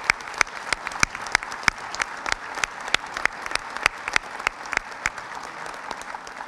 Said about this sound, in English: I think they deserve a good round of applause